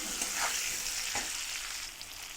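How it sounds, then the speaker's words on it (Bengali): Tomato and ginger fry in a pan with a busy, close sizzle, and a few brief stirring scrapes stand out over the hiss. No one speaks. "দেখো আদাটাও হয়ে গেছে ভাজা, টমেটো দিয়ে একটু ভেজে নিচ্ছি।"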